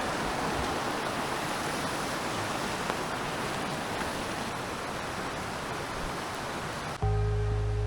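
Rushing snowmelt water pouring off a mountain after winter, a dense steady roar like a stream or small falls heard close and continuous, with a brief change in the final second.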